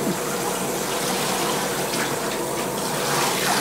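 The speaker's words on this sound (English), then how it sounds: "the shower wand helps the kitty baths go faster" Water sprays steadily and loudly from a shower wand during a cat's bath, a continuous hiss with slight changes in texture and no voices.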